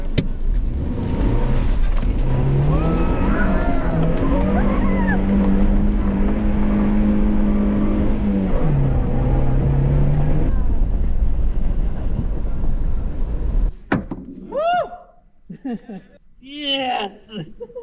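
An engine revs loud and steady while a car is recovered from a sandy river bed in the Hoarusib River, under ongoing talk, then cuts off abruptly near the end, leaving only voices.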